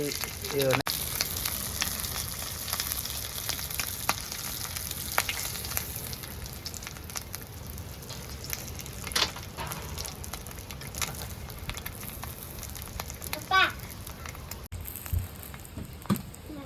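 Steady, crackling sizzle of crab pieces frying in oil, continuous and close throughout, with occasional sharper pops and stirring clatter.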